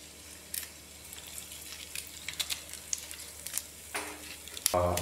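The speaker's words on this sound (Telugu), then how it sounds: "ఆవాలు, జీలకర్ర, శనగపప్పు అన్నీ కలిపేసి వేసేయాలి. దీంట్లో ముక్కలు చేసేసి ఎండుమిరపకాయలు కూడా వేసేయాలి." Mustard seeds, cumin, chana dal and broken dried red chillies sizzle and crackle in hot oil for a Telangana brinjal curry, a steady frying hiss with scattered sharp pops and a louder burst near the end.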